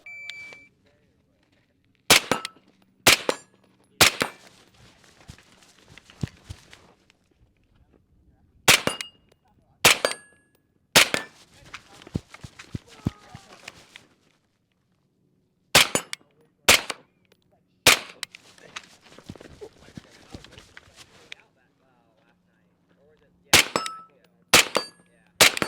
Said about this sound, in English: this is from yesterday, where we shot at different positions on different cones, but it was basically one round per target